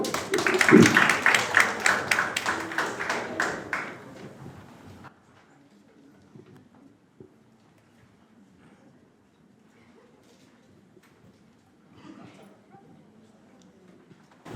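A school audience at a youth history research contest applauds student presenters from Yeongam Girls' High School. The clapping is loud and dense, then fades out after about four seconds into a quiet room with faint shuffles and low murmurs.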